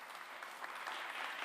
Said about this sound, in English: An applause for her.